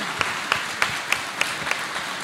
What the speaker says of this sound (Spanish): Le damos un muy fuerte aplauso a los tres panelistas